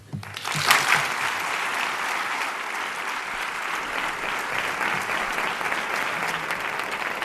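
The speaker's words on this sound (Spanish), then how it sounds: "Recibe el aplauso Juan Francisco Blanco, autor del pregón" Sustained applause from an audience at the end of a Holy Week proclamation speech, a dense, even wash of clapping that swells quickly at the start and holds steady throughout.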